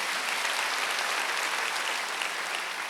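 A church congregation applauds during a Wednesday worship sermon, a dense, even wash of many hands clapping at once that holds steady throughout.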